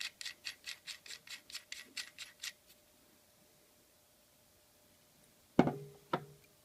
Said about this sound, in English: Screw the CS mount ring into place over the M12 ring.